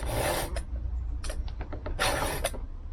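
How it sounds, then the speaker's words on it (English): A hand file rasping across a chainsaw chain out in a woodland, several short close strokes with brief pauses between them, crisp metallic scraping, no talking. "It always seems that I'm sharpening a saw in the woodland"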